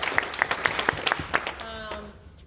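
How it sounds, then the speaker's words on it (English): A small group claps in a short, sparse round of applause at a farewell gathering, with a handful of distinct close hand claps that thin out and fade after about a second and a half. "let's give him a round of applause."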